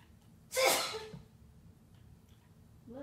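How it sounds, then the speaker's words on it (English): A woman sneezes once in the background of a room, a single sharp burst at moderate distance followed by quiet, with a faint voice afterward. "How many times is that my mom sneezes in one of my videos?"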